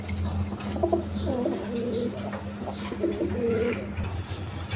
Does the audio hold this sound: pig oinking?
no